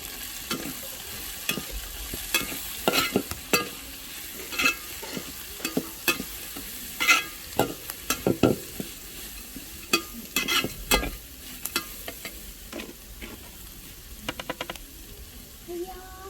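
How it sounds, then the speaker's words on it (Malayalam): Sliced onions sautéing in oil for biryani: a continuous sizzle broken by frequent irregular clicks and scrapes of a spoon stirring against the pan, close and fairly quiet, with no speech. "അത് എണ്ണയിലേക്ക് ഇട്ട് നന്നായിട്ട് നമുക്ക് വഴറ്റി കൊടുക്കാം."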